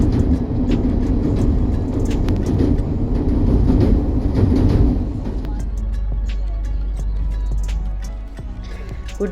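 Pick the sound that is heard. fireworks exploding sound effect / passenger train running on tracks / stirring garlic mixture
passenger train running on tracks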